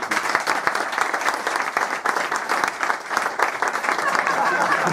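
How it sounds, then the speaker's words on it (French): Audience applause for a performer at a live stage show in Vannes, dense and steady clapping from a crowd, close and loud for the whole stretch without a break. "Je crois qu'on peut applaudir encore une fois Yannick"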